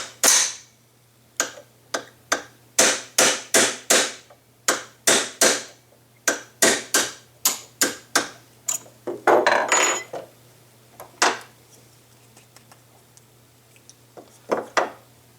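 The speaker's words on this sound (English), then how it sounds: "just drive the second pin out the same way, and do the same with the gas pin" Hammer blows drive a pin out of a rifle's front end during a Troy TRX Alpha handguard install, sharp metallic taps in quick irregular bursts, close and loud, with a brief scraping rustle midway and a few final taps.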